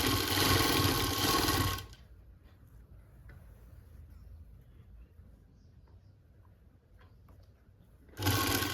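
A sewing machine stitches lace onto a chunni, whirring loud and close before stopping. A quiet stretch follows, then the stitching starts again.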